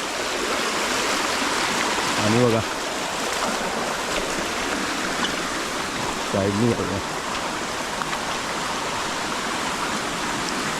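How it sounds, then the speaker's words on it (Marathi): A forest stream running high after rain, a loud steady rushing flow close by that fills the whole clip, with a voice speaking briefly over it twice. "पाऊस पडत असतो त्यामुळे पाण्याचा फ्लो वाढला आहे."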